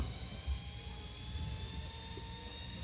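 Small electric motors of an RC model bound to a RadioMaster TX16S transmitter spin steadily with a faint high whine and soft hum, continuous and quiet throughout.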